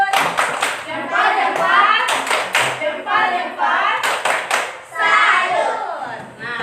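A class of children claps a rhythmic salute clap in a classroom, quick bursts of hand claps in sequence with young voices chanting along.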